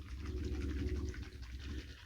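A bottle of aftershave splash is shaken hard, a steady muffled sloshing and rattling that stays close and fairly even throughout, with no voices.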